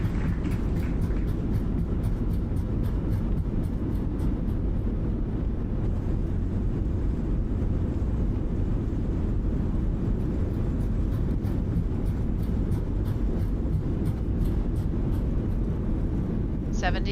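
An airliner's engines roaring in reverse thrust during landing rollout in Microsoft Flight Simulator, a loud, sustained broadband rush that stays steady throughout, with no talk over it.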